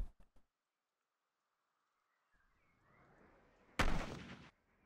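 Enemy machine gun fire in the video game Operation Flashpoint: a few quick faint shots at the start, then a low rumble building and a loud, sharp burst of gunfire near the end.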